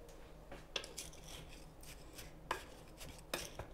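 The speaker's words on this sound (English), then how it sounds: "I'm just going to grab a spoon to stir it real quick" A spoon stirs rhubarb pie filling in a bowl, giving a few distinct scraping, clinking strokes against the dish at an irregular pace, fairly close and quiet, with no talking.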